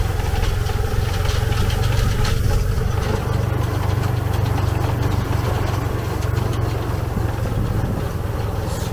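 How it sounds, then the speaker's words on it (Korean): A motorcycle taxi engine idles steadily on Koh Mak Phrao island, a constant low, slightly rough rumble close by, with light outdoor ambience and no speech. "꺼 마프라오 섬 오토바이 투어입니다."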